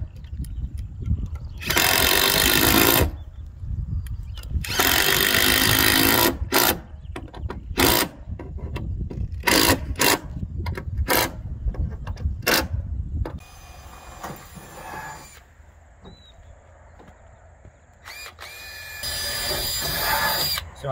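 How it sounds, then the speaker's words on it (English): A power drill bores pilot holes into a Douglas fir purlin in repeated close, loud bursts of high whine, some long and some short, separated by brief pauses, with quieter handling noise between. "So I'm drilling it because it's Douglas"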